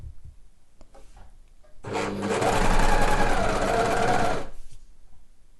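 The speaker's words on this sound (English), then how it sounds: "So I'm going to sew each seam, and then I'm going to overlock the seam allowances together." A sewing machine stitches the shoulder seams of a dress in one steady, close run lasting about three seconds, with light handling sounds just before and after.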